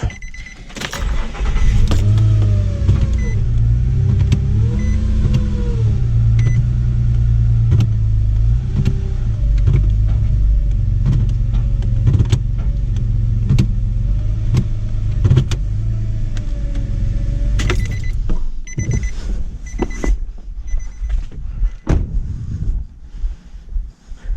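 A 2005-2010 Nissan car with a suspected faulty transmission idles steadily while its shifter is moved with the brake held, giving a loud, constant low engine drone with a few small pitch shifts and clicks. It quiets and turns rougher near the end.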